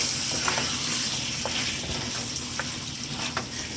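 Goat meat being stirred into well-fried onions in a pan for a bhindi goat masala, with a steady broadband sizzle and several soft scraping stir strokes spaced through it, close and moderately loud with no talk.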